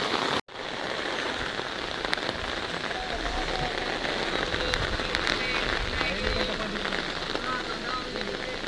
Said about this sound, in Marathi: महाबळेश्वरमध्ये इतका पाऊस चालला आहे बघा, वाढला बघा पाऊस